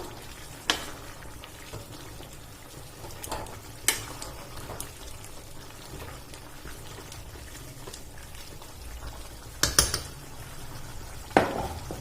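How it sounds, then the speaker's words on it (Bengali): Boiled cabbage gets mashed with a masher in a pot, giving soft, scattered clacks and scrapes against the pot at irregular intervals over a low simmering background. "এটা দিয়ে একটু ম্যাশারটা দিয়ে একটু ম্যাশ করে নেব"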